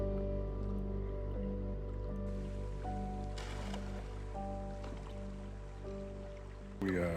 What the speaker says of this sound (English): We are paddling